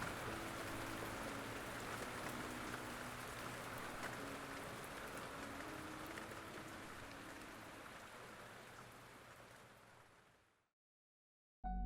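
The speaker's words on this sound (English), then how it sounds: "it rained in a continuous downpour. It rained far and wide over the whole town." Steady heavy rain pours in a continuous downpour, a dense, loud hiss of drops drumming on surfaces that holds constant for about ten seconds, eases slightly, and then cuts off abruptly into silence.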